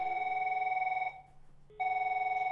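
A telephone rings in an office, two bursts of a steady electronic tone separated by a short pause.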